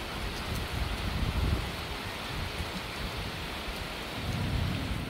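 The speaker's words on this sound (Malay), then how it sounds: "Hujan." Heavy rain pours steadily at a nature campsite near Bernam Nature Hut, Tanjung Malim, a dense hiss with low rolling thunder swelling near the start and again toward the end, no voices.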